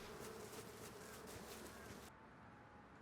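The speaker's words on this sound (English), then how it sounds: "so I think these are probably the safest bees" Bees in the survival video game Rust give a faint, steady insect buzz that drones for about two seconds and then drops away to a quiet background. No voices are heard.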